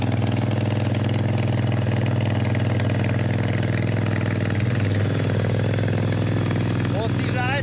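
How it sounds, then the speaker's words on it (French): A parked motorcycle left idling on its own, its engine running loud and steady with a constant low drone and a brief rev near the end, under continuous talk. "il a une moto qui fait du bruit"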